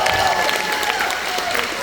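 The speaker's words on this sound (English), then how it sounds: "How about a round of applause for Aiden?" A school awards-night crowd claps for a football and baseball award winner, a dense steady patter of hands with some voice mixed in.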